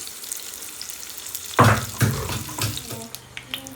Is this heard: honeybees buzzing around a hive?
no